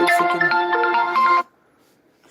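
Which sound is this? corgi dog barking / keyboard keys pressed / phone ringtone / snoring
phone ringtone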